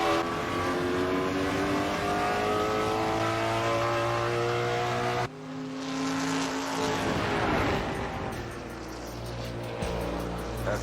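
A race car accelerates around a track, its engine whining in steady rising tones that shift abruptly midway into a rougher roar. The sound is fairly faint and distant, with no talking over it.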